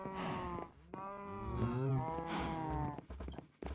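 Several cows moo in the block-building game Minecraft, with overlapping deep, drawn-out lowing calls from multiple animals close by.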